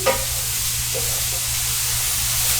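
Onions frying in a pan with salt and pepper added give off a steady, close sizzle and hiss throughout, with a low constant hum beneath and brief clicks of stirring near the start.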